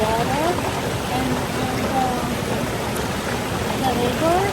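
Rushing water of a waterfall at Lake Tahoe, a steady broadband roar that fills the whole clip, with a voice talking over it.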